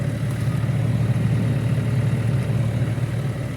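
A farm machine's engine runs at a steady idle, a continuous low, rough rumble that holds an even level throughout with no voices.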